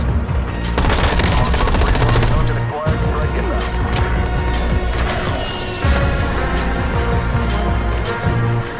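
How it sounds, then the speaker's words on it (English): A precision airstrike in the Call of Duty Mobile game sets off loud bursts of rapid gunfire and explosive crashes, dense and continuous with short pauses. "Precision airstrike standing by. Target area marked. You're cleared hot."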